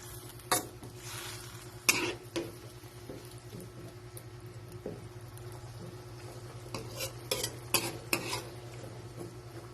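Carrots sautéing in a pan for chopsuey give a quiet, low sizzle under a steady hum, broken by several sharp scrapes and clinks of a utensil stirring.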